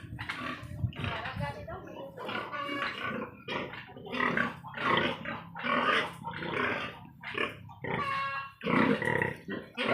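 Pigs grunt and squeal on a Philippine pig farm, a dense run of rough bursts over about ten seconds, close and fairly loud, with people talking intermittently among them.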